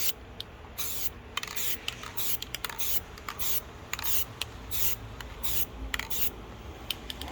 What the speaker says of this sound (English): I'm going to take my can, bring it closer to the canvas, and as I spray, I'm going to pull it out